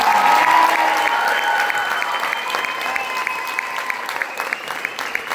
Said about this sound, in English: let's go ahead and give one last round of applause to these amazing musicians that are here